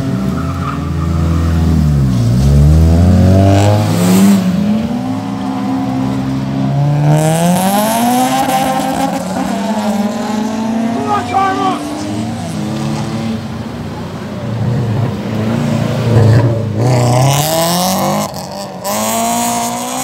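Cars rev hard and skid nearby, engines repeatedly screaming up and down in pitch with tyre noise, loud and close, while people chatter in the background.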